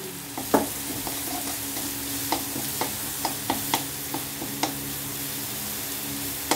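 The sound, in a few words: sautéing ginger, garlic, chili and pepper paste in a pan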